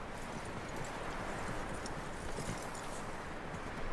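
Horse hooves clip-clop at a steady pace in the Red Dead Redemption 2 video game, a continuous rhythmic clatter over a full, busy background.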